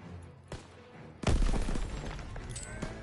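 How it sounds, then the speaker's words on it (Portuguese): A grenade detonates in a World War II shooter campaign: a sudden loud, close blast that cuts through quiet battlefield noise, followed by a lingering rumble and scattered debris and gunfire. "Arremessando granada!"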